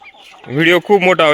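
Native broody hens cluck in a harsh, throaty run of notes, close and loud, several quick pulses in a row.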